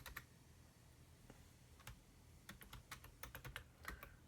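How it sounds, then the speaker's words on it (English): Someone typing on a computer keyboard while working in Cricut Design Space, with sparse soft key clicks at first, then a quicker cluster of taps, close and quiet with no voices. "I'm going to type"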